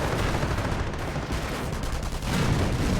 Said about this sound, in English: AT rifles firing at this Panzer IV